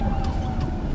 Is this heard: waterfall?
no